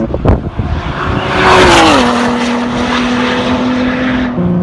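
A loud V6 engine in a 2017 Ford GT holds a steady high drone, its pitch dropping sharply as it shifts, then settling into a sustained tone; no voices.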